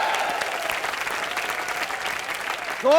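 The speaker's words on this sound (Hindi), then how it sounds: "जोरदार तालियां रॉकी हैंडसम और टीम के लिए।" Loud studio audience applause fills a live comedy show stage, a dense steady clatter of many hands throughout, with a brief tonal swell entering at the end.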